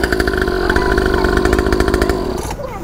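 A 49cc pocket bike engine runs loud and close, a steady buzzing two-stroke drone for nearly three seconds before it cuts off abruptly at the end.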